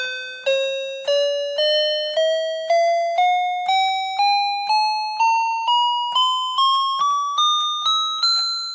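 31-key electronic toy piano keyboard playing single notes that step upward one at a time, about sixteen bright bell-like tones in a steady rhythm, each one decaying quickly and heard close and clear.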